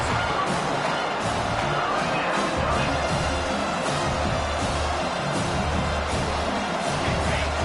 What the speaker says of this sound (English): Here comes this home crowd